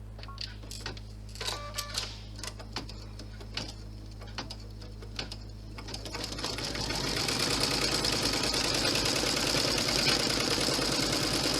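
A sewing machine stitches a wallet, starting after a few seconds of light handling clicks and settling into a steady, close mechanical whirr that runs to the end.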